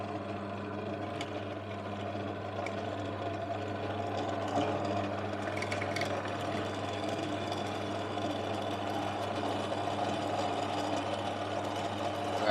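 A powered tool works to remove rivets from the headlight of a Cimatti Mini Chic Italian moped, giving a steady whirring drone that holds evenly for about twelve seconds with no talk.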